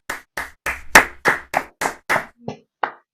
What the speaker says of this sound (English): I was clapping, don't worry